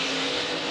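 1972 Tasman Series racing cars circling the Adelaide oval, a brief loud high-pitched engine scream held steady at full throttle.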